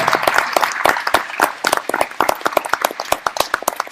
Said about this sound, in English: Give the sister a round of applause for it.